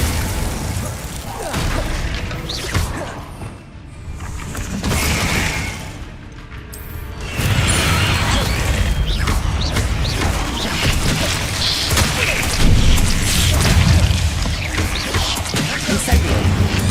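Spell effects from Hogwarts Legacy on PS5, a fiery Incendio blast and an icy Glacius cast, erupt as loud booms and whooshing crashes that sweep continuously through the stretch, with a voice calling out spell names over the effects.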